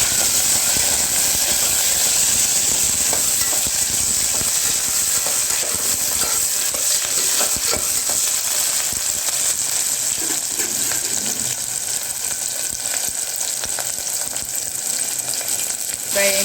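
Curry leaves and spices fry in hot oil for bagara rice, a loud continuous sizzle with stirring clatter that runs unbroken and close throughout.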